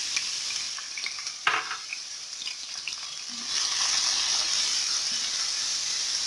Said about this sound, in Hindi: इसमें अब मैं डालने जा रही हूँ अपनी प्याज।